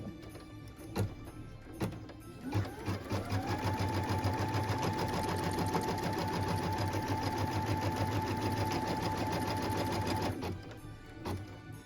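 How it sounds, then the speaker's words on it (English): A sewing machine stitches the tack-down line of a fabric Noel Christmas ornament, running steadily for about eight seconds after a few short starts, with a rapid even needle rhythm, close and alone. "Then we can go right ahead and stitch that tack down line."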